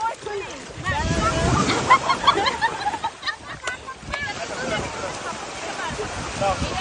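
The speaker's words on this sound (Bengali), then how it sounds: "এই প্রথম আহিল নামলো সমুদ্রে" Ocean surf washes and sloshes close by while several people talk and call out over the rolling water.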